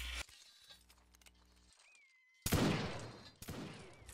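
Musket volley in the Napoleonic Wars module of Mount & Blade: Warband, with a loud burst of gunfire at mid-clip and a second crack about a second later, following a stretch of quieter game ambience.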